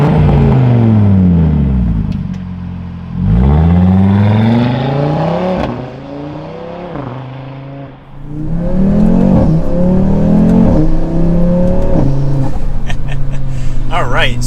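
An Audi RS3 with handling mods accelerates hard through several gears, the engine note rising in sweeping climbs with sharp drops at each shift, loud and close throughout.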